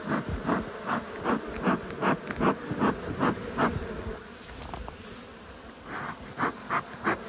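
Honey bees buzz loudly and close by at a rural beehive entrance while it is smoked, with the buzzing rising and falling in repeated pulses and a hissing undertone.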